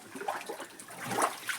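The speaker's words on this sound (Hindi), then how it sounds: "आगे में नौले पे पानी भरा हुआ है झमाझम कुछ इस प्रकार से" Water running at a naula, a stone-lined mountain spring well in the hills, a steady close trickling and splashing flow with no voices over it.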